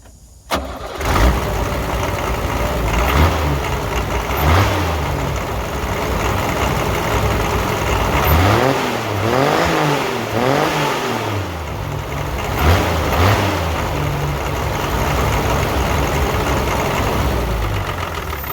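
A Nissan Patrol MQ engine in poor condition starts and then runs roughly, with loud steady rumbling broken by repeated uneven revs throughout.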